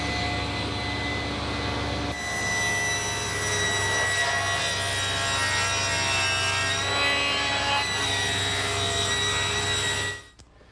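A saw cuts the 22.5-degree ridge angle on a wooden 2x4 rafter, a continuous loud power-saw whine with steady pitch that drops off sharply at the end.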